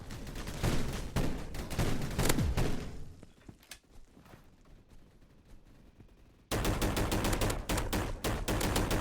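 Rapid automatic gunfire rattles loudly in the Roblox FPS Energy Assault, stops for a few quieter seconds with scattered shots and thuds, then resumes as another dense, continuous burst.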